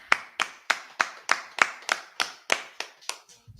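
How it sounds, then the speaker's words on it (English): Sharp hand claps from a brotherhood class gathering in Fayetteville, North Carolina, a steady run of about a dozen loud, close claps at an even rhythm, with no talking over them. "clap it up."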